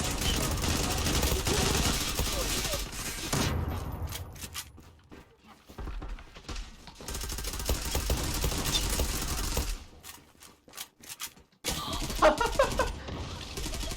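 Sustained gunfire in the online shooter Zula, with dense automatic bursts and rattling volleys that drop out and resume, close and loud, with brief pauses between strings of shots.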